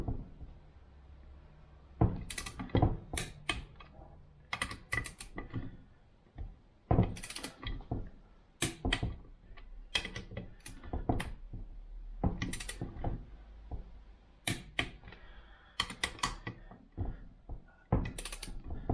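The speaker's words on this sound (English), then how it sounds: "Now before we drop our head bolts in, put a little bit of oil on the threads and on the washer." A ratchet tightens the head bolts on a 2012 Yamaha YZ250F engine with quick close clicking runs, pausing and starting again in short bursts that last nearly twenty seconds, with no talking.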